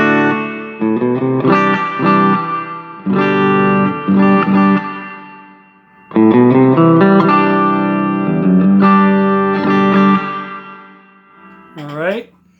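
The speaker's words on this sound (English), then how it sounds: "the Sonicake Reverb. Holy snap. So it's a bright reverb trail." Guitar through a Sonicake reverb pedal set for a bright trail, strummed chords in bursts with shimmering treble-heavy tails decaying between them, ending on a quick sliding note.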